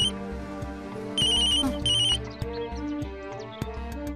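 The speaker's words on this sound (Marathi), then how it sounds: "आप्पांचा फोन आहे." A phone rings with a repeating electronic ringtone melody, bright tonal pulses in a steady pattern, close and clear with no talking over it.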